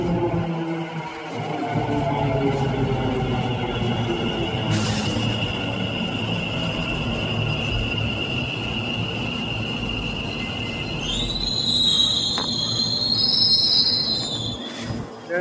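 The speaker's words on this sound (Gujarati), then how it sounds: "ભમાટી કરતી આવી છે મેટ્રો ટ્રેન." A metro train in Ahmedabad pulls into a station with a steady rumble, then a sharp, high wheel squeal builds near the end as it brakes. The sound is loud and close, with no voices.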